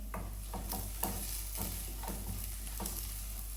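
Sliced onion and green chillies softening in hot oil in a pan for wheat upma, with a quiet steady sizzle broken by about eight rhythmic scrapes and stirs of a spoon against the pan.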